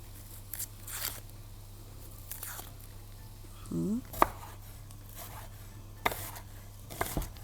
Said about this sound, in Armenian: Ու պետք է կիսալուսին կտրատենք։